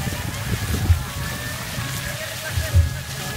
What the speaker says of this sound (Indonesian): Ini hujan.